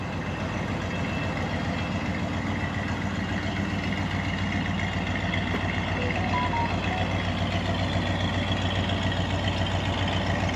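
A 1984 Chevrolet Scottsdale C20 pickup idling steadily just after a cold start, a low, even engine rumble held close and constant, with no voices over it.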